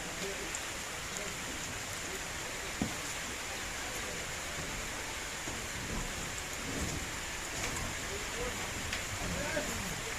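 Heavy rain pouring down during a typhoon in a steady, loud hiss, with occasional drops striking nearby surfaces.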